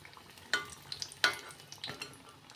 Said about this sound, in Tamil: கொஞ்சம் மீடியம் ஃப்ளேமில் வச்சு பொறிச்சு எடுத்துக்கலாம்